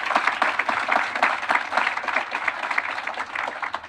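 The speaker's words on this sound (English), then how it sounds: "give that one a round of applause" Audience applause at a groundbreaking news conference for an imagination center, a steady dense wash of many hands clapping throughout, fairly close and full, with no speech over it.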